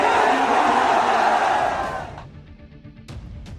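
A huge crowd of Muslims roars and cheers at a political rally in Bihar, a loud, dense wall of voices that fades after about two seconds, leaving scattered shouts and distant noise.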